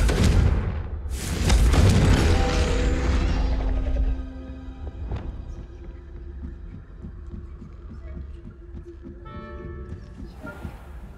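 A Confringo blasting spell explodes in the Hogwarts Legacy video game: a loud, broad boom bursts up early and rumbles for a few seconds, then fades into a softer hum with game music underneath.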